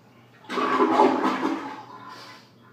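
Toilet flushing nearby, a loud rushing swell of water lasting about two seconds before fading into a quieter refill.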